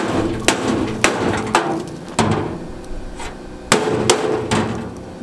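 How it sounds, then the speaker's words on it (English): Hammer blows strike the rusty stainless shell of an old scrapped dishwasher, about six sharp metallic knocks at uneven intervals, close and loud, with a ringing clatter after each hit. "let's see if we can knock it off there with a hammer"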